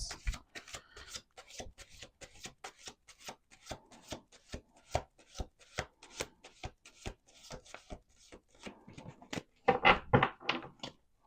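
A deck of cards is shuffled again and again, crisp riffling strokes in a steady rhythm, close and clear, ending with a louder flurry of shuffles.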